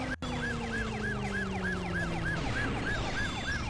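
A wailing police siren from the PlayStation 1 driving game Driver sweeps up and down in a steady repeating cycle over a low car engine drone, loud and continuous, with no voices.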